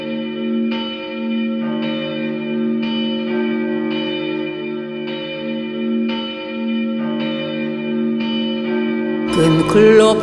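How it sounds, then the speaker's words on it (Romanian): Church bells ring in steady repeated strokes with a long resonant hum beneath, loud and sustained, ending with a brief burst of louder clanging. "clopotele încep să sune"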